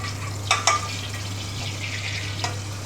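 Oil heating in a pan for lamb chops gives a steady, moderate sizzle with a low hum underneath, broken by a couple of brief clatters near the start and one more toward the end.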